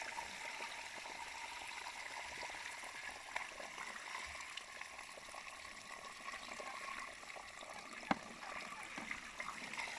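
Water drains and trickles out of a coffee washing tank in a soft, steady gurgling flow, fairly faint, with a small splash or knock near the end.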